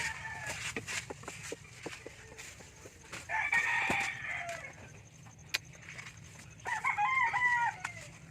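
Chickens near a breeder's coop give steady background clucking and chatter, with two louder crowing calls rising over it, one near the middle and one toward the end, along with scattered sharp clicks and knocks.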